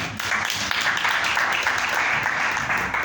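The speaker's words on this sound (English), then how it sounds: "let's give him one more clap" An audience claps for an artist and performer from Alexandra, a dense, steady patter of applause filling the room without a break.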